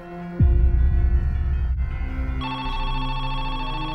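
A steady electronic telephone ring starts abruptly and continues throughout, a sustained buzzing tone over a low hum, shifting pitch partway through.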